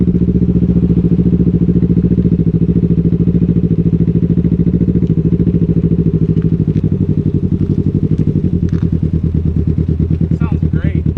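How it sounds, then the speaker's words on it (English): A Can-Am Ryker with a new RLS performance exhaust running close, a deep steady rumbling idle with rhythmic low pulses, while people talk over it. "Got a brand new performance exhaust"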